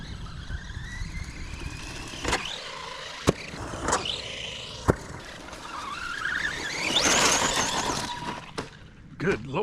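An ARRMA Big Rock RC truck shrieks with high, rising brake squeals amid sharp clicks and knocks, the whine climbing to a loud peak before dropping off, with people talking over it.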